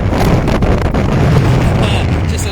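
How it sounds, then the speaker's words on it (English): Blustery Storm Eunice wind roars across the microphone in rough, continuous gusts on the coast at Ilfracombe, with a heavy low rumble that swells and eases slightly throughout. "Here come the gusts"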